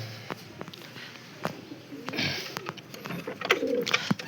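Lal Cheena pigeons coo softly in short bursts, with a rustle of wings and scattered bird sounds nearby; no talking.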